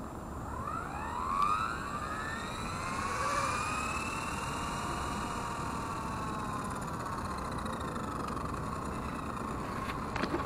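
A Blade 230s V2 RC helicopter's rotor spools up outdoors at twilight. A rising, siren-like whine sweeps upward over a constant rushing hum and holds steady for several seconds.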